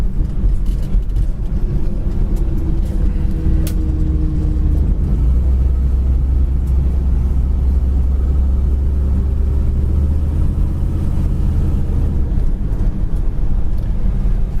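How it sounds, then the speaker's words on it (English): A 1955 Ford Crown Victoria cruising at 45 mph down a straight road, heard from inside as a continuous loud low rumble of engine and road noise with steady wind hiss and no talking. "We're doing 45 mile an hour and straight down the road, no hands on the wheel."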